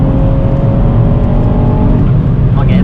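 A 2022 Ford Fiesta ST engine drones loudly from inside the cabin during hard driving, a steady high-revving hum under an occasional voice, with a brief shift in pitch near the end.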